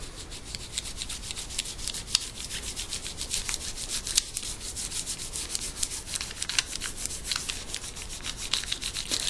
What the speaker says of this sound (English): now I'm going to rub off this masking fluid and we'll see what we got